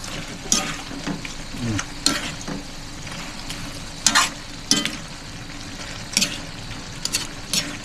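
A spoon or spatula stirs home-cooked food with squash in a sizzling pan, scraping clicks recurring irregularly over a steady frying hiss, close up with no talk.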